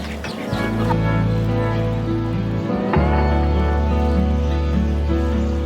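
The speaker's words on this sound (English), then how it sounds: "Had to feed the birds some tortilla chips." Chickens feed on tortilla chips outdoors in Hawaii, a steady run of close clucking and fowl calls that holds loud throughout with low engine-like hum underneath.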